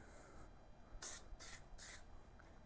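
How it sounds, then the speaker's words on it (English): Three short hissing bursts of aerosol air filter oil sprayed onto a Venom Ghost Chopper 250 motorcycle's air filter, evenly spaced, close by against a quiet background. "Just spray a little bit of oil on it."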